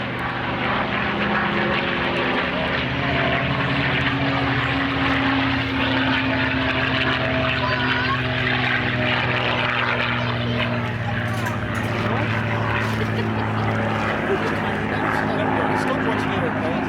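Rolls-Royce Merlin aircraft engines at the Chailey Airshow drone loudly and steadily with a sustained whining, winding-up tone throughout, while voices talk over the engine noise.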